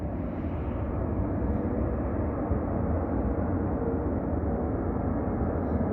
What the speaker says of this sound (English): Now there's an airplane.